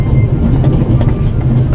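A passenger train rolls along in the game The Raven: Legacy of a Master Thief, a loud continuous low rumble with soft rhythmic clacking and rattle throughout.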